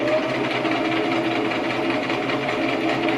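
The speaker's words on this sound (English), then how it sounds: "Then we do a little back stitch." A sewing machine running a short back stitch while mending a small rip, a loud, close, continuous mechanical whirr and rapid needle chatter with no speech.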